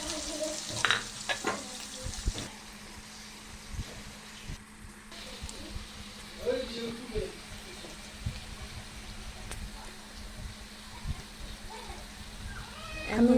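Spices sizzle in hot oil in a pan for a Bangladeshi-style fish curry, a steady crackling hiss with occasional scraping stirs and a few clinks, close and continuous, with brief soft speech in places.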